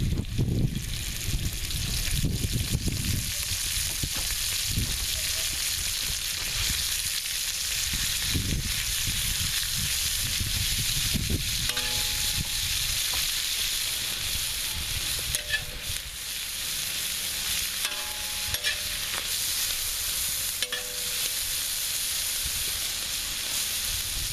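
Beef frying on a cooking disc gives a steady, close sizzle and hiss that runs unbroken the whole time, with faint scraping and stirring now and then.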